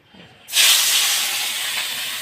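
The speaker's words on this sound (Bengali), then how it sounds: "এই যে জিরে ফোড়ন দিয়ে দিলাম" Cumin seeds tempered in hot oil burst into a sudden, loud sizzle about half a second in. The hiss then holds steady and bright with no talking.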